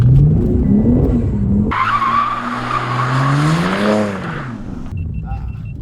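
A rebuilt BMW M3 G80 drifts through cones, its tires skidding and squealing in a loud, sustained screech over the rising and falling engine note, close and continuous.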